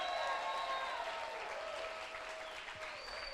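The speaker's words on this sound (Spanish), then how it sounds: "¿cuántos pueden dar un aplauso de eso que retumban?" A church congregation applauds loudly, a dense sustained roar of clapping with a few crowd whoops or tones rising over it, easing a little toward the end.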